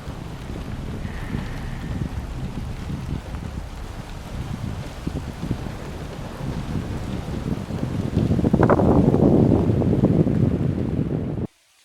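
Steady rain falls outdoors during an October archery deer hunt in Pennsylvania, with gusting wind buffeting the microphone, the noise swelling louder near the end before cutting off abruptly.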